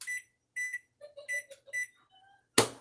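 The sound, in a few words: microwave timer beeping as it is set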